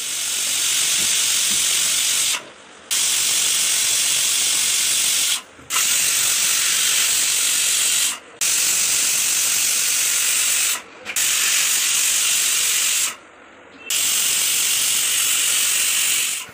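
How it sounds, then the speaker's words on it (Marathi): Pressure cooker on a gas stove cooking a leafy vegetable dish, giving a loud continuous steam hiss and whistle broken by several short silent gaps, with no talking. "मी आता कुकरमध्ये शिजत ठेवले. आता ते चांगले 4-5 शिट्ट्या घ्यायच्या"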